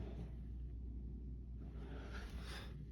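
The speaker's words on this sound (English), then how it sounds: "There's a jet, and it sounds like it's right over me." A jet aircraft passing overhead makes a low, continuous rumble that stays faint but steady throughout, with no voices.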